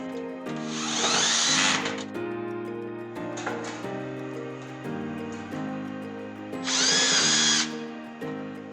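A power drill drives screws to fasten side shrouds onto the front and rear shrouds of a Zero Zone Guardian merchandiser case, in three whining bursts separated by short pauses and lower motor hum.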